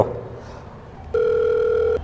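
A telephone call tone sounds steadily for under a second on a phone call, a clear sustained electronic tone starting abruptly after quiet background noise.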